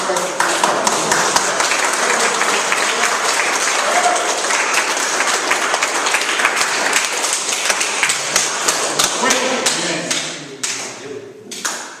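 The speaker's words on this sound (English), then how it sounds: "Even if you got time at home, practice clapping." A Boy Scout troop audience claps steadily and fairly loudly, then the applause thins out and tapers off near the end, leaving a few scattered claps.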